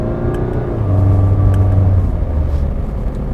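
Jaguar XE petrol engine held around 3000 rpm with a throaty exhaust note, a steady droning rev that swells slightly near the start and holds, heard from inside the cabin with no talking.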